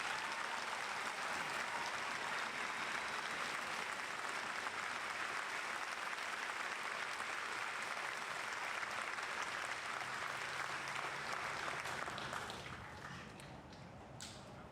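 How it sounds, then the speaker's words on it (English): A crowd at an army graduation ceremony for soldiers applauds in sustained, dense clapping that holds steady, then thins and fades over the last couple of seconds. "please join us in giving these fine soldiers a round of applause"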